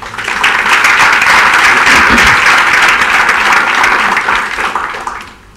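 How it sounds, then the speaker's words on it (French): A church congregation applauds a sister with a loud, dense wave of clapping that holds steady for several seconds before tapering off at the end. "Acclamez la sœur"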